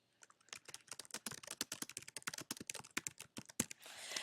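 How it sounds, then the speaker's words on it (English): Rapid, steady typing on a computer keyboard while entering text into a Google Docs document, a dense run of close, crisp key clicks with no talking. "let me type some text in here"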